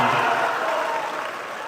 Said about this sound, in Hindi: इतनी कमजोर ताली से काम नहीं चलेगा।